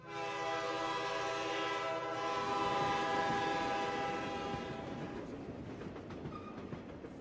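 Drum brushes imitate a train: a rumble with a sustained horn-like chord over steady chugging, the tone fading after a few seconds while rhythmic rushing continues.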